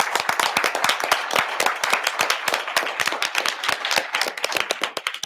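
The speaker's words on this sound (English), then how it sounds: "So a big round of applause for Mr." An audience at a school board public session gives a round of applause, crisp and close, with irregular individual claps over a few seconds that thin out toward the end.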